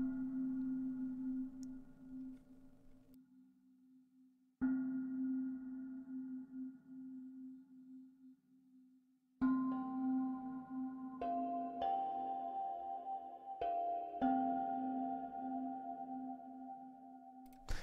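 Sustained metallic tones ring out in layered, shimmering strikes, with new resonant hits entering every few seconds to build a soft percussive ambience.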